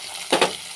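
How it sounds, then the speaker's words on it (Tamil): Hot tempering of chilli and curry leaves poured into a beetroot curd pachadi gives a short sizzling burst, two quick hissing swells over a faint background, with no talking. "இப்போ தாளித்தது பச்சடியில் சேர்த்துக்கலாம்."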